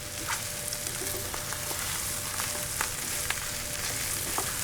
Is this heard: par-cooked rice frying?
yes